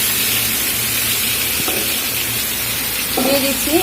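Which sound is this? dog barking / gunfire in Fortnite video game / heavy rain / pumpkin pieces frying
pumpkin pieces frying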